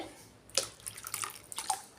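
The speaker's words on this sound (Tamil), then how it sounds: "இன்னும் கொஞ்சம் தண்ணி ஊற்றிட்டு" Water poured into rava dosa batter gives a few soft splashing, trickling bursts, quiet and close, with no talking.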